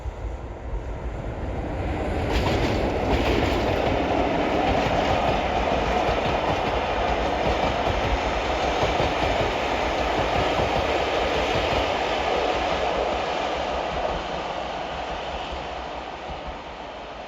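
A heritage railway train on the North Yorkshire Moors passes close by, hauled by a Black 5 steam locomotive, a steady loud rumble with wheel clatter building and holding for most of the stretch before slowly easing off, with no talk.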